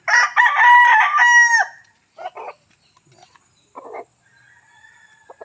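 A rooster crows loudly and close by, followed by scattered softer clucks and calls from chickens nearby.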